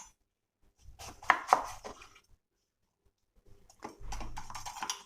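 A knife cuts snake gourd on a kitchen board, a few soft, close chopping taps and scraping knocks in two short bursts divided by a quiet pause.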